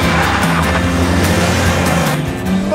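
A Volkswagen Jetta in sport mode accelerates with a loud, continuous engine drone heard from close by, the pitch holding steady and dense throughout.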